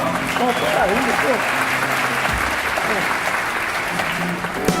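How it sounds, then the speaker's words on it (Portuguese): Conference audience applauding steadily at the close of a talk at a CX summit, dense sustained clapping throughout, with voices heard talking over it. "Mais palmas, por favor."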